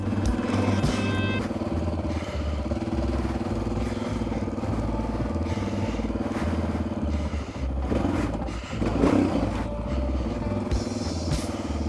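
A Honda XR650R dirt bike is ridden hard, its single-cylinder engine a loud, close, continuous roar that rises and falls with the throttle, with a sharp revving burst near the end.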